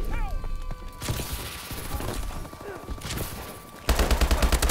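Gunfire in the video game Call of Duty Advanced Warfare, a steady stream of rapid shots amid explosions and game effects, ending in a loud burst of automatic fire.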